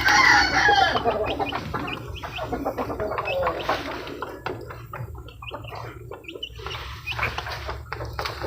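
Chickens cluck busily and a rooster crows loudly up close on a backyard poultry farm, with hens and chicks calling throughout in a dense, continuous flock chatter.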